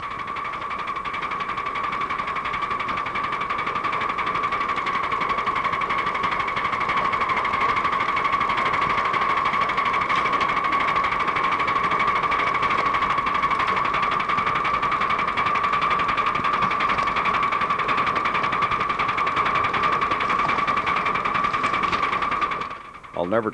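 A live steam model locomotive works up a long, steady 3.5% grade, making a continuous, even mechanical whir with a steady tonal hum. The sound stays level throughout and is heard close up.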